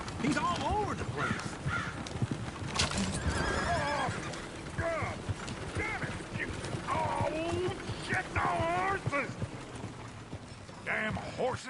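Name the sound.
horses neighing in a video game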